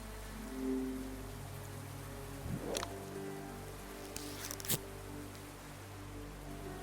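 Rain patters steadily in the Murder by Choice video game, a faint continuous hiss with a couple of brief scraping and rustling sounds over it.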